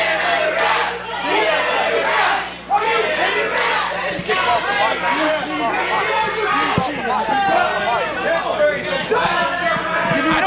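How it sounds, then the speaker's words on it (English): Angry professional wrestling crowd erupting over a referee's decision at a cup final, a loud sustained roar of shouting, booing and jeering voices with sharp individual yells cutting through the din. "this crowd is furious"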